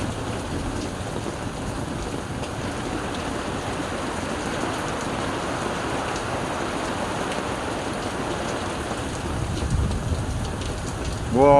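Torrential rain pours steadily during a drive through a 160 mm downpour in Busan in July 2024, a dense, loud, continuous roar of rain on the car with a brief louder surge at the end.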